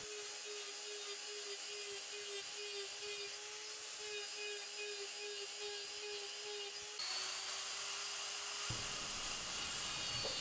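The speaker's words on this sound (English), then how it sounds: "Using this conical carbide burr in this way, doing the texture in long ways around the piece," A conical rotary carbide burr textures a wood turning with a steady high-pitched whining grind, continuous and fairly loud, shifting to a brighter, harsher tone partway through.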